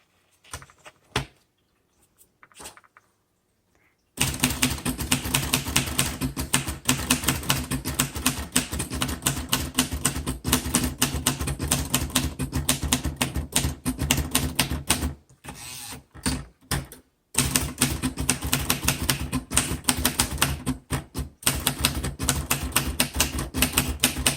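A 1948 Royal Quiet Deluxe portable typewriter is typed on in a rapid, steady run of crisp key strikes with brief pauses, close and loud, after a few isolated taps at the start.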